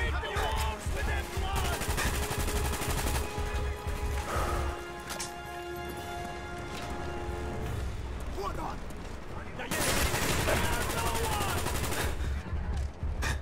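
Rapid AK-47 fire in the Call of Duty: Black Ops campaign rattles in dense bursts across most of the stretch, mixed with crashes, impacts and a busy game soundtrack.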